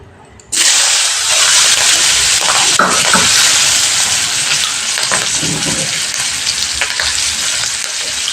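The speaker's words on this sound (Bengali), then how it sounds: "এই একই তেলের মধ্যে আমি ক্যাপসিকাম ভেজে নেব।" Capsicum hits hot oil that was just used to fry paneer, for a vegetable paneer stir fry. A loud burst of sizzling starts abruptly, then settles into a steady, crackling fry with no talk.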